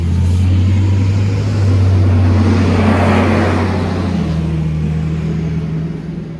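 A Dodge Challenger on 315 tires rolls forward slowly with a loud, steady low engine hum and a rising tire-and-motor rumble close by, without speech.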